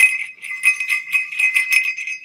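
Small metal bell ornaments jingle inside a bag, a bright continuous tinkling with repeated little shakes and clustered rings over two seconds, close up and alone.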